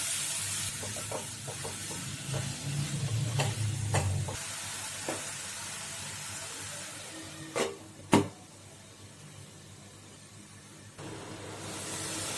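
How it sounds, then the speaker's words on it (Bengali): A chicken mixture fries in a spoon of butter in a wok, sizzling and hissing under stirring, with a couple of sharp utensil knocks before the frying quiets down. "কড়াইয়ের মধ্যে 1 চামচ বাটার দিয়ে আমি চিকেনের মিশ্রণটা ঢাকা দিয়ে ভালো করে ফ্রাই করে"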